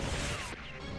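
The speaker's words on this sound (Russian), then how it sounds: "Так, делаем фейерверк." Firework attack in the Metal Slug video game: a loud, dense crashing burst with a sweeping swish that cuts off abruptly about halfway, leaving a quieter crackling tail.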